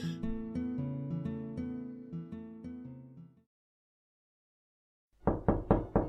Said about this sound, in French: Toc toc toc. Qui est là?